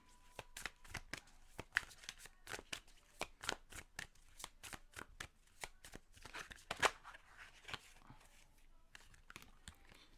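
Tarot cards being shuffled by hand, a quiet series of crisp, uneven flicks and slaps with short pauses between bursts.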